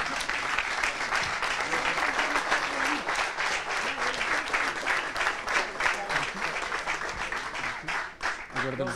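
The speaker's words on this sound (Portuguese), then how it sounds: "Forte aplauso para o Bucarest Trauma Team!" At a national rescue and vehicle extrication championship, a crowd gives loud, continuous applause for a competing trauma team, steady and dense, with voices faintly mixed underneath.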